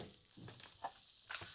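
Unsalted butter sizzling and foaming in a hot pan after chicken is cooked, soft crackling spits with a brief scrape, quiet and close.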